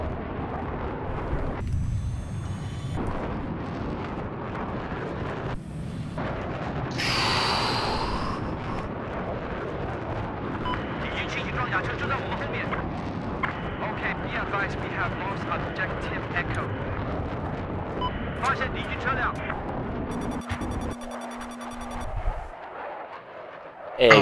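An anti-aircraft gun fires rockets in Battlefield 4, producing repeated booming blasts and rumbling explosions within a dense, continuous stretch of battle noise, with voices talking over it.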